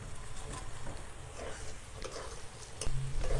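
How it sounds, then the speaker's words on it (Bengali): Fried paneer is tipped into peas in a pan and stirred, with soft scraping, light ticking and a faint sizzle close by at low volume. "এখন আমি দিয়ে দিচ্ছি ভেজে রাখা পনিরগুলোকে।"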